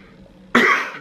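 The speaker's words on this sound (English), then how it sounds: "I'm clearing my throat." A single short, firm throat clearing, close and fairly loud, after a moment of near silence.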